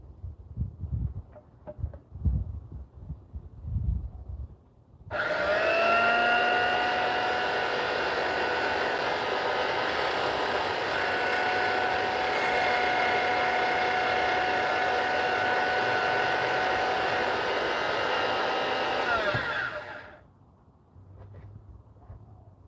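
A key cutting machine starts up and runs as a steady loud whirring whine while cutting a space and depth key, then spins down, with quieter handling clicks and faint shuffling before and after.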